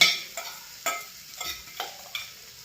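Ground peanut chutney stirred in hot oil in a home kitchen pan, a soft sizzle broken by about six regular scraping strokes of a spoon, close and fairly quiet, with no talk.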